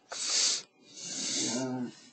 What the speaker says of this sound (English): sounds like a grumpy dog